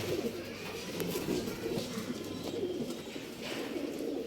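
Pigeons kept for sale in a coop in RT Nagar, Bengaluru, give low, soft, repeated coos that blend into a steady murmur, with a few faint higher chirps on top.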